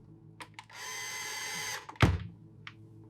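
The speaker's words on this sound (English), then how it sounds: "Perfect. Drill it in." A power drill whirs in a short steady burst with a few brief clicks around it, followed by a solid thunk, close up, during a yacht restoration.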